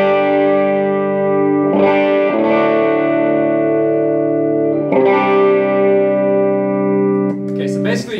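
An electric guitar plays through a Way Huge Green Rhino overdrive pedal. Sustained, lightly overdriven notes and chords ring out close and clean-edged, changing every few seconds and fading to a soft pick attack at the end.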